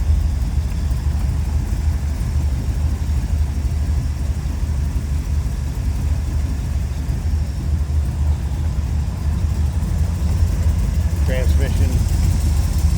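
A 1931 Ford Model A roadster pickup street rod with a tri-power three-deuce carburetor setup idles steadily and smoothly up close, a continuous low rumble throughout with a faint brief noise near the end.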